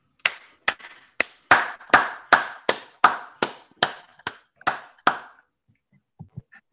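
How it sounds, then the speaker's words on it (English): A single person claps about a dozen distinct, evenly spaced claps close to the microphone during an online school board meeting, then stops, leaving a few faint soft sounds. "Can we please have a Zoom round of applause to welcome Dr."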